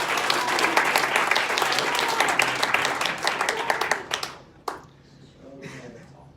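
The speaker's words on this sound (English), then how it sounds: "So a round of applause for everyone." Applause from the audience at a company sales and marketing meeting, steady dense clapping for about four seconds that thins out and stops, followed by a few scattered claps and quiet murmuring.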